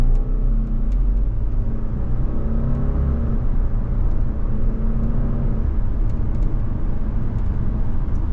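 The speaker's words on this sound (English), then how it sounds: "So this turbo engine really gets this car up and moving nicely." The turbocharged engine of a 2024 Subaru Legacy Sport accelerates down a road, heard from inside as a steady, moderate rumble and whir whose tone climbs gradually with speed.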